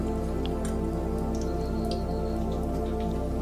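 Batter-coated pur fries in hot oil, a dense, continuous crackle and sizzle with scattered small pops, steady and close throughout.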